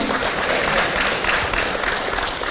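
Sustained, dense applause from a congregation during a church sermon, an even wash of many hands clapping at once with no pauses.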